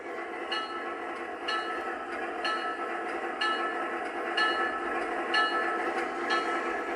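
The bell of a DCS model train, triggered from a Remote Commander, rings in steady, evenly spaced metallic strikes, about one per second, fairly quiet over a faint running hum.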